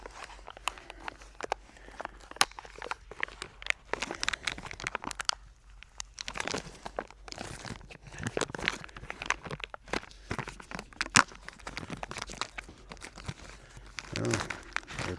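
Packaging for crankshaft thrust bearings for an N14 Cummins engine rustles and crinkles almost continuously, close and busy, with dense crackling handling sounds and a brief quieter gap.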